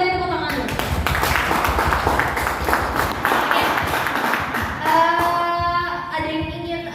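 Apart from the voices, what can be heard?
applause at student debate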